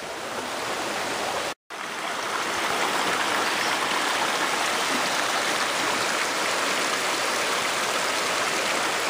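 Panther Creek rushing steadily beside a Georgia forest trail near a footbridge, a loud continuous broadband wash of flowing water with one brief dropout early on.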